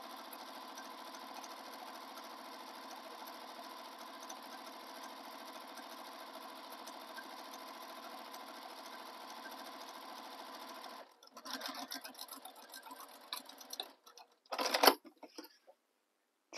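A sewing machine stitches a second row on a vinyl Minerva tote, a quiet, continuous motor whir that stops abruptly partway through, followed by scattered handling clicks and rustles.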